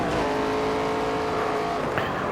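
A race car engine drones steadily on a timed practice lap in NASCAR 25, a sustained, fairly loud motor tone that shifts pitch slightly near the end, with no talking.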